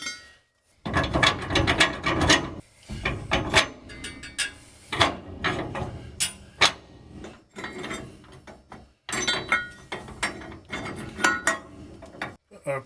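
A hand ratchet tightens the nuts on a new CPP tubular trailing arm for a 1965 Chevy: loud, close bursts of rapid clicking separated by short pauses.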